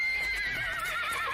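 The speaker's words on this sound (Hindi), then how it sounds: "घोड़े दहशत में हिनहिनाते हुए अपने पिछले पैरों पर खड़े हो गए।" Horses neigh in panic as a horror story sound effect, a loud wavering whinny sustained throughout with a trembling, quavering pitch and faint hoof sounds beneath.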